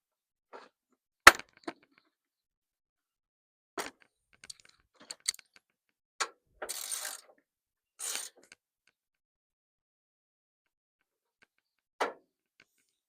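Fender bolts come off a 1994 Ford F250 with sparse metallic clicks, a ratchet's short buzzing runs and a few sharp knocks, spread over quiet gaps, close and with no talking.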